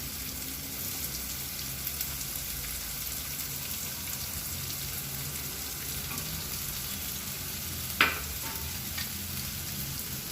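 Drumstick, brinjal and potato poriyal fries in oil with a constant soft sizzle, nearby and even, with a single sharp utensil clink around the middle and a couple of faint taps.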